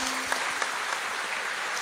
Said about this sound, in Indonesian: tepuk tangan untuk OKS